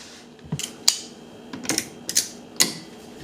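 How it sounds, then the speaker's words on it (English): A drywall screw is driven into a stuck refrigerator water filter, giving a series of sharp, close mechanical clicks and scraping grinds in irregular bursts, with no talking. "To get it out, attach a drywall screw to the filter."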